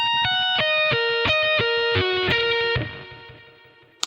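A distorted electric guitar through effects picks an arpeggio slowly, about a dozen clear single notes in even rhythm, then rings out and fades over the last second with a brief click at the end.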